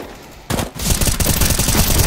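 Rapid automatic gunfire from a CS:GO match bursts in after a quiet start, a loud, dense rattle of shots that continues steadily to the end.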